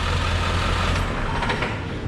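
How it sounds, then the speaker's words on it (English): A service truck's engine idles with a loud, steady diesel rumble that eases and fades toward the end as it is shut off, heard up close with no talking. "So let me get this truck shut off"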